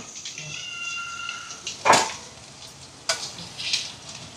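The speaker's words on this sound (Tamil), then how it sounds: "இப்போ பாருங்கள் பொரியுது" Badusha dough fries in hot oil with a thin bubbling sizzle, broken by a few sharp scrapes and knocks of a utensil in the pan, moderately close.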